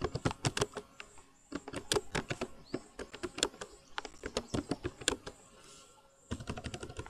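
Fingers tap steadily on a computer keyboard while a message is typed, quick clicky bursts of keystrokes separated by short pauses, close and fairly quiet.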